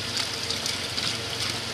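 Water poured in a steady, continuous gush while making pani puri water, close and fairly loud throughout with no talk.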